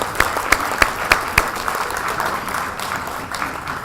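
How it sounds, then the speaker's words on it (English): Scattered applause at a volunteer reception, a few sharp individual claps standing out at first, then softening into a looser, thinner patter that fades. "Yes, great round of applause"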